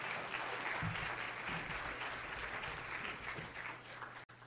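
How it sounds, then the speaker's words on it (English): Warm applause from a seminar audience on networking, steady dense clapping filling the whole stretch with no talk over it, ending in a brief dip. "Warm round of applause."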